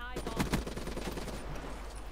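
Automatic ICR assault rifle fire in Call of Duty Black Ops 3, a dense rattling burst loud and close at the start, then continuing gunfire and game noise underneath for the rest of the short moment.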